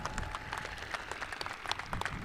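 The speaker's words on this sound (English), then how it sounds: "that's something to clap about" A Spring 2024 Truman State University commencement crowd applauds in a brief, moderately loud patter of scattered claps.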